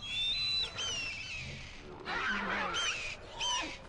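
A bird calling in a video game, a few whistled, honking cries in short separate bursts, fairly faint and clear, with no talk over them.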